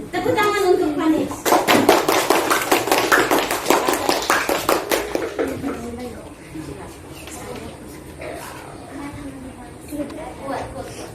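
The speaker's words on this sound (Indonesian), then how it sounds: "Tepuk tangan untuk Panis." Children applauding in an elementary school classroom: a burst of rhythmic, close group clapping that beats in unison for several seconds, then fades into scattered claps and kids' voices.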